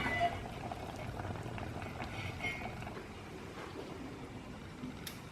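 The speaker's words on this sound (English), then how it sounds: "I have made Kerry some soup. Well, it's just boiling at the moment." Soup bubbling in a pot on a home stove early in the morning, a steady low simmering hiss with soft pops, quiet and close, with no talking.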